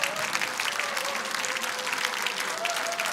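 Steady, dense applause fills a party assembly hall as a standing crowd claps, the sound holding constant from start to finish without a break, and a thin tone lies faintly underneath.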